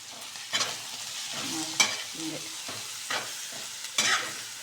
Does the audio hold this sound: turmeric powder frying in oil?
yes